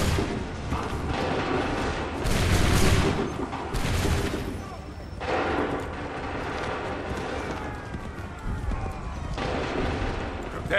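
Musket volleys and battlefield gunfire in the video game Assassin's Creed III, loud bursts of shots and booms rising and falling over a constant din of combat, with shouted voices in the mix.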